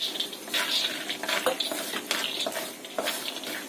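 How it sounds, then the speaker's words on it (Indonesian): Steady crackling sizzle of peanuts frying in hot oil, with occasional scrapes and clinks of a utensil stirring the pan, close and continuous. "Kemudian kita goreng kacangnya"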